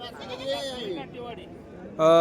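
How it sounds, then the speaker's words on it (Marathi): A goat bleats loudly and close at the end, after a stretch of people talking in a busy outdoor crowd at the Peth Vadgaon goat market. "वेगवेगळी शेळी आज आपल्याला पेठवडगाव बैल बाजारमध्ये बघायला मिळालेली"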